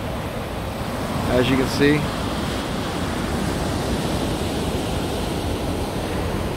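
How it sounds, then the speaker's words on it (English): Water pours out at the foot of a dam in a winter state park, a steady broadband rush like surf, heard close, with someone talking briefly over it. "here's where the water comes out on the other side"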